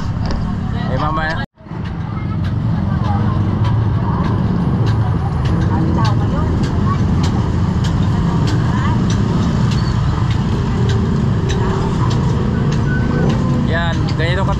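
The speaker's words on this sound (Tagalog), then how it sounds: "Yan, ganito ka traffic ngayon dito sa Casillas. Super traffic" Dense, loud roadway traffic in Castillejos, Zambales, with cars, buses and trucks idling and rumbling close by, a steady continuous wash of engine noise after a brief cut near the start, with people talking over it.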